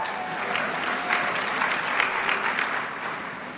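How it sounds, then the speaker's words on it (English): Sustained audience applause at an awards ceremony for make-up artists and hair stylists, dense steady clapping from a large crowd lasting several seconds and tapering slightly at the end. "another round of applause for Patrick"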